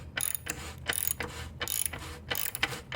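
Ratcheting on a Honda CBR1000RR swing arm axle during reassembly of a wrecked bike, a steady run of quick mechanical clicks in repeated bursts, close and moderately loud with no talking.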